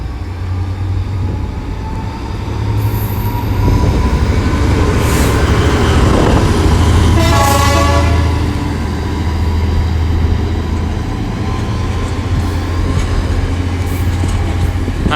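Freight train led by locomotives 66418 and 70001 passes at Leamington Spa, a loud, continuous diesel roar with rumbling wagons and a brief squealing whine in the middle.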